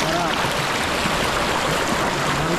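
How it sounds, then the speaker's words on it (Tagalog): Clear mountain stream water flowing steadily, a close, loud, continuous rushing and gurgling babble with no breaks. "Ito yung nagaslas ng tubig."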